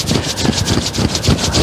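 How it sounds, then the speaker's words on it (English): Palms rub together briskly during a tai chi and qigong session, giving a close, steady, rhythmic swishing friction with repeated strokes and no talk. "rub your hands together"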